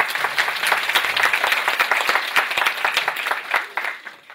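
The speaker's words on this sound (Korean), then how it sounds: "대학장님께 한번 박수 보내주십시오." Audience at a Korean higher-education forum breaks into sustained applause, dense crisp clapping from many hands filling the room for about four seconds before tapering off at the end.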